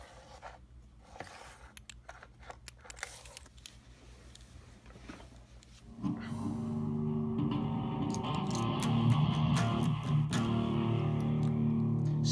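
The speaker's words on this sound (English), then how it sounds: "I had a little bit of distortion there for a second, then it just went." Electric guitar through a distortion effect: sparse scratchy picking and muted string noise at first, then a loud, sustained distorted chord wash that swells and holds to the end.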